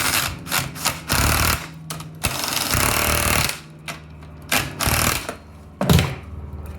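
Bolts being driven into a Karcher GC160 power washer's 5.0 HP Honda engine with a power tool, giving loud, close bursts of rattling impact hammering broken by short pauses.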